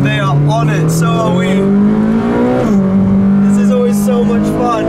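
A Ferrari's engine revs and pulls hard while driving on open roads, one loud, continuous tone that climbs steadily, dips at a gear change and climbs again, with someone talking over it.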